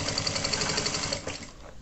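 A sewing machine stitching a shoulder bag runs in a fast, even mechanical rattle, close and steady, then slows and stops near the end, with no speech.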